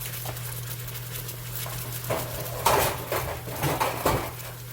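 A metal pan clanks as it goes into a home oven, set on a lower rack to catch dripping juices from cilantro-lime chicken; a few close clatters rise over a steady low hum.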